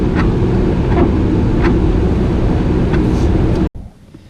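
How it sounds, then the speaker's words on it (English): Inside a 1993 Chevy Z28, the ventilation fan blows steadily on its wind setting, a loud broadband whoosh with cabin rumble that cuts off abruptly near the end, leaving a quieter hum. "outside of the noise coming from the fan, you actually hear the wind because this is the wind setting"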